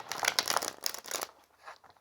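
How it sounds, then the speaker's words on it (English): A tarot card deck being cut and shuffled, a close, dense crisp riffling of cards for about a second and a half that fades into faint rustling, with no talk. "So we'll just give it another little shuffle here."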